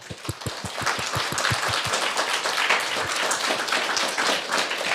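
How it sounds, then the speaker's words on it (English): An audience applauds after a lecture, with a few distinct claps at first that quickly swell into dense, sustained clapping from a room full of people, fairly close and alone without speech. "Round of applause, please."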